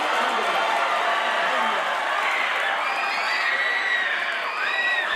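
Korean-American fans at a New York–New Jersey World Cup viewing roar and cheer, with children's high shouts and whoops in a dense, sustained crowd din, while a voice talks over it.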